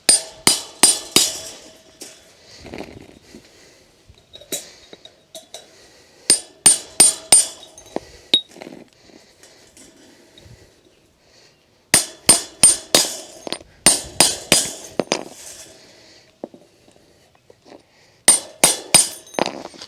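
Quick bursts of sharp metallic hammer blows on a cold chisel cutting through concrete wire remesh, loud and close, struck in clustered runs of several hits separated by short pauses, with no talking.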